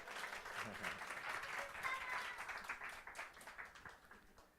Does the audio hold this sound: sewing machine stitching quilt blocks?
no